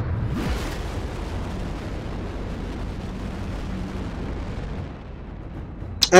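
A nuclear explosion in the Titanfall video game: a huge, sustained roaring blast that fills several seconds with dense rumbling noise, then fades out before a sharp crackle at the end.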